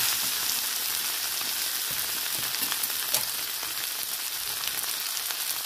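Spices including chili and coriander powder fry in a pan for a Bengali potato, drumstick and prawn curry, giving a steady, dense sizzle with faint scraping from stirring throughout, close and continuous.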